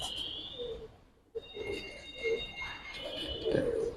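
Fighter pigeons in a loft coo softly, with several low, throaty calls over quiet background chirps and a brief lull near the middle.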